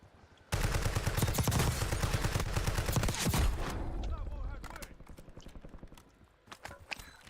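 Rapid gunfire bursts in the video game Call of Duty: Warzone, dense automatic shots crackling loudly for a few seconds, then fading to scattered distant pops and faint sounds.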